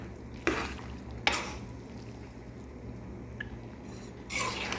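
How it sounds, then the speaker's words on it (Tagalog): Shrimp going into a pan for pasta with mushrooms, a soft steady sizzle under sharp clanks and scrapes of utensils stirring against the pan, fairly quiet and close. "Nilagay na natin yung ating hipon"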